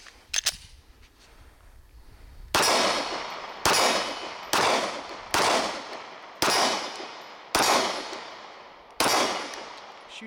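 Seven sharp shots from a Mossberg MC2c 9mm pistol firing 124-grain ammunition from a 15-round magazine, loud cracks spaced roughly a second apart, each trailing off in a short decaying echo.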